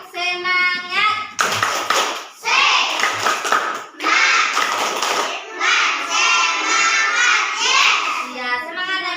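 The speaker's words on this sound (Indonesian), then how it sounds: "Tepuk semangat." A school class performs the rhythmic 'tepuk semangat' clapping chant, children's voices chanting loudly in unison while hands clap sharply in bursts of patterned beats, close and lively.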